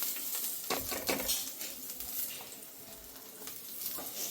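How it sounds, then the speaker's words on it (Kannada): About 100 grams of peeled, crushed garlic frying in a small amount of oil in a pan, giving a steady, soft sizzle with faint crackles and no one speaking. "ಬೆಳ್ಳುಳ್ಳಿ ಈಗ ನಾನು ಹುರಿಬೇಕು, ಅದರಿಂದ ಬೆಳ್ಳುಳ್ಳಿ ತಳ ಹಿಡಿಬಾರ್ದು ಅಂತ ಒಂದು ಸ್ವಲ್ಪ ಅಷ್ಟೇ ಎಣ್ಣೆ ಹಾಕ್ಕೊಂಡಿದ್ದೀನಿ"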